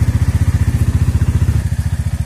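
Close and loud, the engine of a Bajaj Dominar 400 motorcycle runs with an even, throbbing rhythm and a clattering rattle riding over it, with no one talking.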